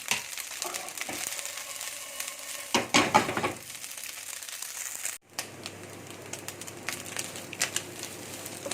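Small pieces of chicken breast with garlic and black pepper fry in a pan, giving a crackling sizzle with crinkly stirring and a clattering burst, then a softer, steady frying hiss after a short break.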